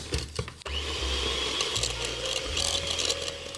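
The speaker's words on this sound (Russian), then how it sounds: "И теперь мы должны с вами все это хорошенечко взбить миксером, для того, чтобы не было у нас комочков." Electric mixer beating flourless keto crepe batter: a clunk, then continuous close whirring with a steady motor hum that shifts in pitch as the beaters work through the bowl, no speech.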